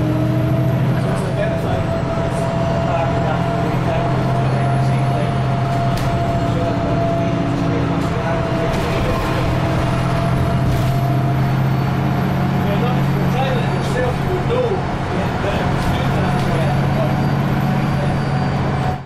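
Steady, loud drone of an autonomous bus cruising along the M9/M90 motorway near Edinburgh Airport, continuous engine and road noise with a faint tonal whine throughout.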